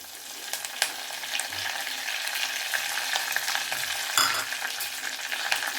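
Mustard seeds, cumin and curry leaves fry and crackle in hot oil for egg kurma, a close sizzle with sharp pops and stirring clinks, fairly quiet and without speech.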